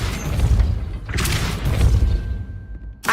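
A Depulso spell cast in Hogwarts Legacy lands as a deep, rumbling boom with a burst of magical whoosh, followed by a sharp crack near the end.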